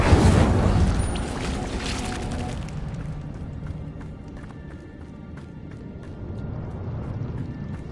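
A fiery Incendio spell is cast inside a cave in Hogwarts Legacy: a loud whooshing, booming burst of flame at the start that gradually fades into a lower rumbling ambience.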